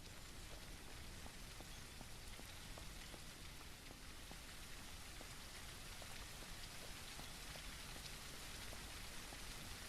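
Steady rain falls in the video game Surroundead, a constant dense hiss of drops with faint scattered ticks, unbroken for the whole stretch and with no voices.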